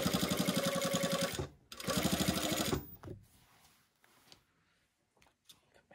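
A sewing machine stitches a pant seam in two close, rapid, loud runs separated by a short pause, then stops, leaving faint handling noises and quiet rustling.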